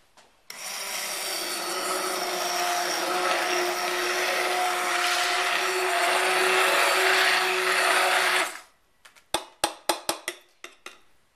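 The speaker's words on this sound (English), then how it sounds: "I'm going to go ahead and use this immersion blender" A handheld immersion blender whirs continuously through marinara sauce for about eight seconds, then stops, followed by several sharp clanks and taps.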